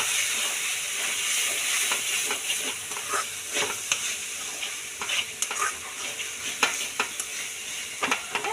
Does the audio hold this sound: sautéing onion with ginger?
yes